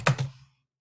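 Several quick keystrokes on a computer keyboard, close and crisp, then a soft final tap fading into silence.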